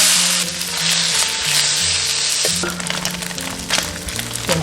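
Braised pork intestine and other marinated braised ingredients dropped into hot oil in a wok, a loud close burst of hissing sizzle that settles into steady frying with some crackle and a light clink of utensils.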